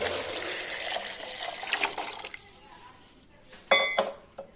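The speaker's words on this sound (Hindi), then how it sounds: "इसके अंदर देखें मैं पानी शामिल कर रही हूँ" Water pours steadily into a jug with a bright rushing splash, then stops, followed by a couple of sharp clinks of glass or metal.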